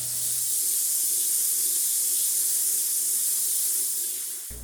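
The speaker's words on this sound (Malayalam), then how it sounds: "കുക്കർ ക്ലോസ് ചെയ്തിട്ട് ഒറ്റ വിസിലിനൊന്ന് വേവിച്ചെടുക്കാം" A pressure cooker venting steam in a home kitchen, a loud continuous hiss that holds steady for several seconds, then cuts off abruptly.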